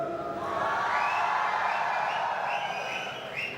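Supporters of Team Eagle at a gaming LAN festival cheer loudly, a continuous crowd roar with whoops and whistles that swells early and eases slightly toward the end.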